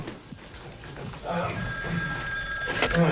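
An old telephone bell rings in a 1980s comedy scene, a sustained metallic trill starting midway and continuing to the end over low room noise, with a person's voice heard briefly.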